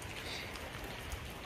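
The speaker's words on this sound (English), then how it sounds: "The rain has died off a little bit, but trying to take a look." Rain falls steadily outdoors beside a shed, a constant moderate hiss of drops on surfaces with no pauses and no voices.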